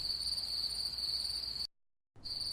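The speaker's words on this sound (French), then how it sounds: "nous avons su qu'il s'agissait du grillon à tue-tête" Loud cricket chirping, a bright, sustained insect trill that runs unbroken, then cuts out for about half a second before resuming just as strongly.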